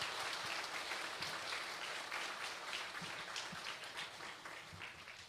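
A church congregation at Sunday service applauds to encourage the young people who led the worship songs, a faint, steady, sustained patter of many hands throughout.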